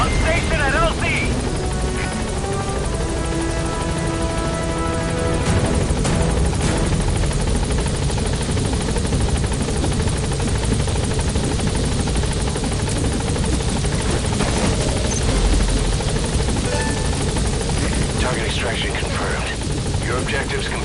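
A B-Quad support helicopter from Metal Gear Solid V arrives at a landing zone, its rotor drone steady and loud across the whole stretch, with radio voices and game chatter speaking over it.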